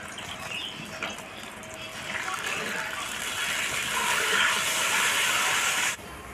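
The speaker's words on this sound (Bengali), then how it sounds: "ঝোলটা ফুটে গেছে" Curry broth for a homestyle shukto at a rolling boil in a pot, a broad steady bubbling hiss that swells louder before cutting off abruptly near the end.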